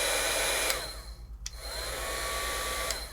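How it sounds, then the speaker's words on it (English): A dual-speed Sizzix heat tool for heat embossing blows with a steady airy roar and whine, dipping briefly near the middle before resuming at full strength. "This is the Sizzix heat tool."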